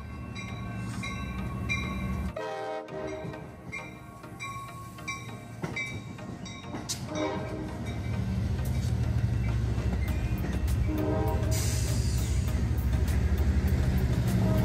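An Amtrak San Joaquins train with new Siemens Venture coaches, pushed by a locomotive, departs Oakland station; low engine rumble builds steadily with rolling wheel noise and metallic clatter, growing louder toward the end.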